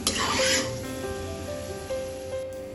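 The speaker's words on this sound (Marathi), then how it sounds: "हलकेसे तळून घेऊया मनुके" Raisins fry in a pan with a steady close sizzle that starts loud and settles into a softer, even crackle, with no talking.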